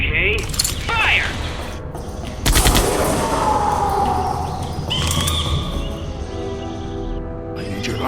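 Gunfire in Jurassic Park: The Game rings out amid mechanical clanks and rattles, with a loud shot burst near the middle and sweeping tones and noisy game ambience around it.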